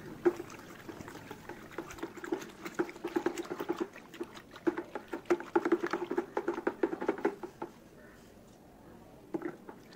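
Rock salt and shampoo stirred by hand in a basin of water for a foot soak, a close busy sloshing and pattering with gritty swirls that run for several seconds, then fade to a few scattered splashes.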